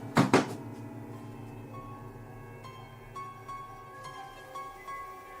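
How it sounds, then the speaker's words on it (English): A door slams loudly twice in quick succession, a heavy close thud in a paranormal setting, followed by lingering, eerie sustained tones that ring on alone. "The unsettling events always kick off with a spine-tingling ghostly door slam"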